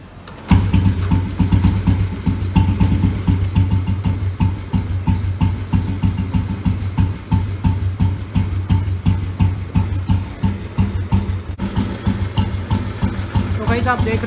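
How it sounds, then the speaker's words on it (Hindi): A Royal Enfield Bullet motorcycle, just back from a full engine repair, starts up and idles with a steady, even thumping pulse, close and loud, under continuous talking. "मैं आपको दिखाता हूँ कि जो इंजन का आवाज़ है वो कैसे ठीक हो गया है।"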